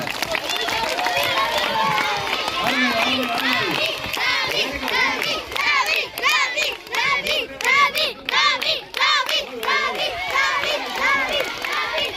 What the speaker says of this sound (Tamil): மாணவர் கரகோஷம் கொடுங்க